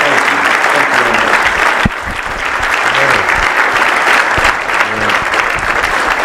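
An audience claps steadily for Dan Benjamin at the close of an interview event, a sustained dense wash of applause lasting several seconds, with a brief dip partway through before it swells again.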